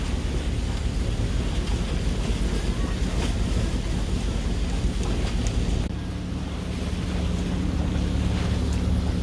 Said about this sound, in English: then the crab boat started